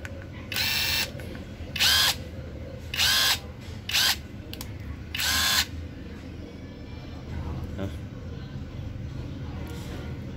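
A DEKTON 330Nm cordless impact driver fires in five short bursts, each a loud high-pitched buzzing rattle lasting about half a second to a second, separated by pauses with low background hum.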